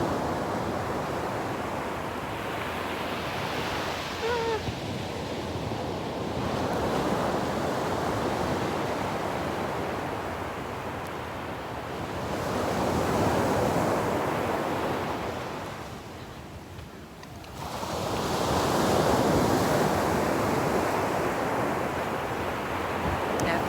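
Waves wash in and recede in broad, slow swells, a continuous rushing roar that rises and falls over about twenty seconds.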